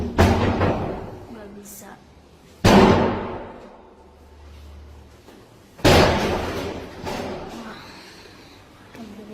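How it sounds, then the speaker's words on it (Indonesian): A door is forced and rammed from outside, with two loud, sharp blows landing several seconds apart among quieter knocks, while people talk nearby. "tuh suami aing didobrak pintu"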